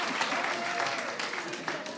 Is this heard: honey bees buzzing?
no